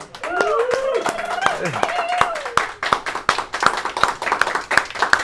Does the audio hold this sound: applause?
yes